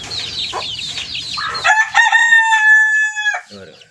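Young chicks cheep and a hen or rooster clucks and calls nearby, a busy overlapping chatter that gives way to one long, loud, drawn-out crow before fading.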